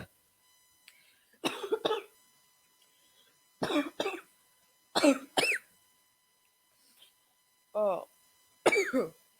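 Several harsh coughs in bursts of two, close and fairly loud, spread across a quiet stretch with a brief spoken word between them.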